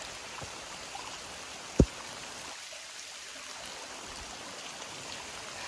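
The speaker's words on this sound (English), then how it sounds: "Oh, pretty stream." A stream flows along a mountain trail in pouring rain, a steady close wash of rushing water and rainfall with one sharp click partway through.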